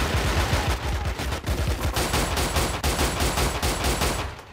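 Rapid gunfire in a first-person shooter game called BeGone, a dense loud stream of sharp close shots without pause and no voices over it.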